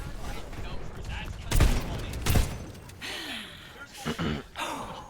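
Gunfire in the shooter game Overwatch 2: two loud broadband shot bursts stand out near the start, with further shorter shot-like hits later, all mixed with game effects and character voice sounds.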